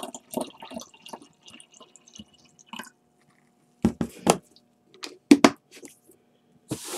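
Liquid poured from a gallon jug with lemons floating in it, heard as a few short separate splashing and trickling bursts with pauses between, fairly close, no talking.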